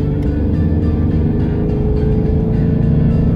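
A Ranger vehicle's engine drones loud and steady while driving on a paved road with the air conditioning switched off, a constant low rumble with no clear rise in pitch.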